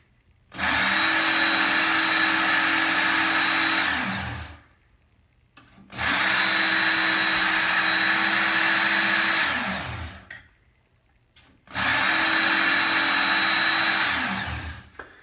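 A Work Sharp Ken Onion knife sharpener grinds a knife edge in three separate passes of about four seconds each, a loud steady motor whine with abrasive hiss, each pass spinning down into brief quiet.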